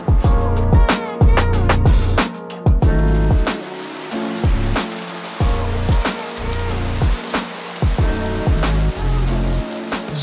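Rain falls outside a hotel room window in a steady, fairly loud wash with irregular surges and patters, and no voices over it.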